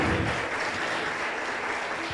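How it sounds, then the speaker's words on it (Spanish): Steady applause from a church congregation fills the space, a dense continuous wash of clapping that holds at an even level throughout with no break. "denle un fuerte aplauso"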